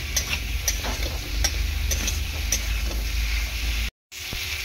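Potatoes are added to hot oil spiced with turmeric and chilli powder and stirred, giving a loud, continuous sizzle with scraping stir sounds close by and a brief cut to silence near the end.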